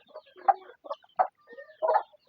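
A hen on a small farm clucks in a series of short, close, irregular calls over a quiet background.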